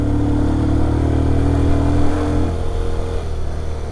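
A motorcycle ridden on a scenic off-road route near Matheran, its engine humming loudly and steadily under strong wind noise, with a slight change in pitch midway and no talk.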